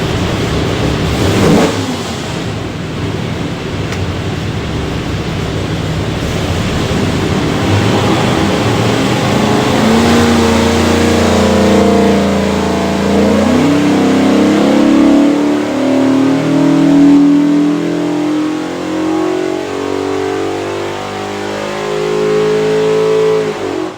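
A 427ci all-aluminum Ford V8 built for a '67 Mustang revs hard on a dyno, roaring loud and steady as the pitch sweeps upward through a full pull, with no talk over it.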